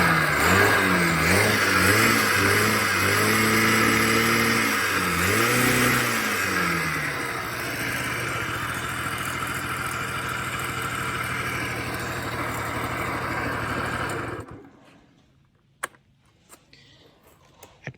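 A 1986 Honda Spree scooter engine, previously suffering a plugged muffler, revs up and down a few times, then settles into a steady buzzing idle before shutting off, leaving near silence with a few small clicks.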